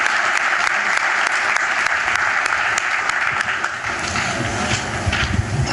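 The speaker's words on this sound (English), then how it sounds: "Round of applause for EdRepublic" Audience applause at a GeekWire Startup Day 2015 demo zone pitch event, a dense steady wash of many hands clapping throughout, loud and sustained.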